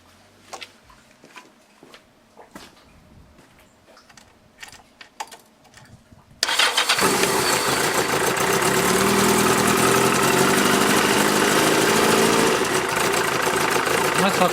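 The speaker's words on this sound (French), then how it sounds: "Je vais refaire tourner la bécane un petit peu." A Yamaha 900 Diversion motorcycle, just refilled during an oil change, starts abruptly after a quiet stretch of faint clicks and handling noises, then settles into a loud, steady idle close by.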